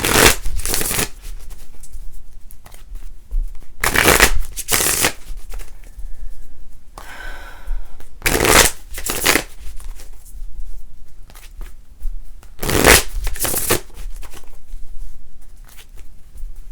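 Tarot cards are shuffled in several loud riffling bursts separated by short quiet pauses, close up and with no talking.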